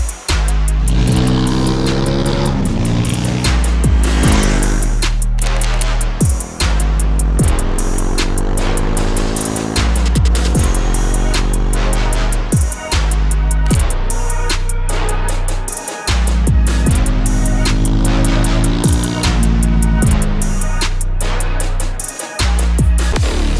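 Triumph Tracker 400 flat-track style motorcycle ridden hard on roads in southern Spain, a loud, close engine climbing through the gears in repeated rising revs with brief drops at each shift.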